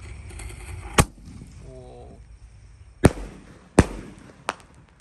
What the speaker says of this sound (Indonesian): Kita malam ini pesta kembang api spesial tahun baru